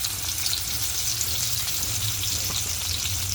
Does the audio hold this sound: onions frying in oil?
yes